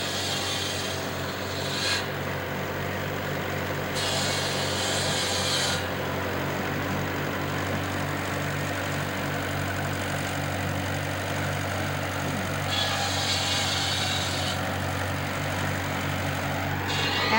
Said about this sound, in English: One tractor is driving the saw, and the other is driving the baler splitter.